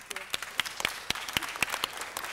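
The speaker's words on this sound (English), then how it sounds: "So I give a big round of applause to Wendy Gruhl." Scattered audience applause at a city council meeting, a handful of sharp, separate claps rising and falling in an uneven rhythm, fairly close and moderately loud.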